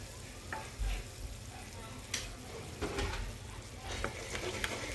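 Milk-thinned gravy being mixed in a pan, low sloshing scrapes and a soft simmering hiss with a few light utensil knocks, close and fairly quiet.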